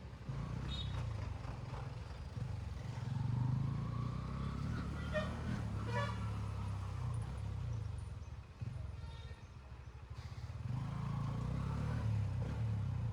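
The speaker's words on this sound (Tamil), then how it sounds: "எக்ஸாஸ்ட் நோட் நல்லா இருக்குல்ல அதோட சவுண்டு" A 2025 Honda CB125 Hornet 125cc motorcycle idles and rides with a steady low exhaust note that carries through the whole stretch, with some outdoor noise above it.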